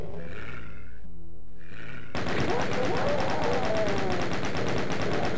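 Rapid weapon fire in the classic video game DOOM on level E5M7, Nightmare Underworld: after a brief lull with low growls, a loud, continuous stream of mechanical gunshots hammers on steadily with dense game noise underneath.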